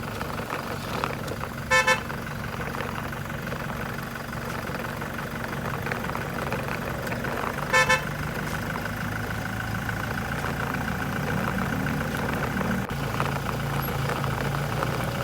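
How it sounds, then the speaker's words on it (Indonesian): Short horn toots from an MBG food truck, two brief honks several seconds apart, over a continuous low idling engine rumble and ambient street noise. "Sopir membunyikan klakson pendek sebagai salam"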